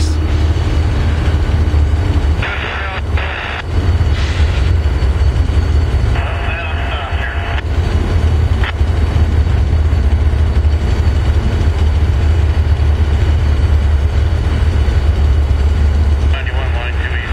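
A Norfolk Southern locomotive, number 316, moves as light power with a loud, steady diesel engine rumble that holds throughout, with some higher mechanical noise on top.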